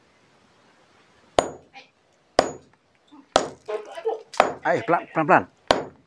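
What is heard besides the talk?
hammer striking to dig out a green glowing object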